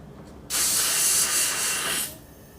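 A steady, hissing airbrush spray burst, emptying remaining fluid during cleaning, starts abruptly, holds for about a second and a half with slight pulsing, then cuts off; close and fairly loud, no voices.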